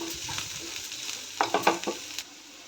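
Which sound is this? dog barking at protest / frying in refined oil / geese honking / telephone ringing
frying in refined oil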